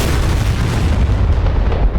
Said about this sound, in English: because those were two 500-pound bombs, I killed FARP and myself